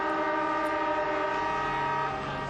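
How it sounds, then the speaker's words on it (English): A loud, steady stadium siren ending a football quarter, horn-like with rich stacked tones, held unbroken for a couple of seconds before easing slightly at the end. "And the siren goes to what was a remarkable quarter of football"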